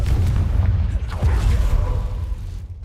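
Confringo blasting spell detonating in Hogwarts Legacy, a loud, close, deep boom with rumbling debris that trails off over a few seconds, no speech.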